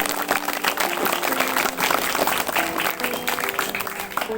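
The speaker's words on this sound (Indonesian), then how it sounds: "Kita kasih tepuk tangan dulu." A room full of people at a primary school farewell ceremony claps steadily in a sustained round of applause, with no one speaking.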